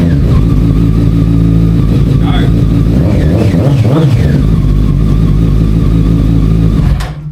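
A motorcycle engine running without a radiator, a loud close idle with a steady low rumble and a brief rev in the middle, cutting off abruptly near the end.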